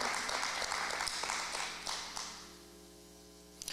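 Church service congregation clapping in praise, a fairly quiet patter of applause over a low hum that fades out after a couple of seconds.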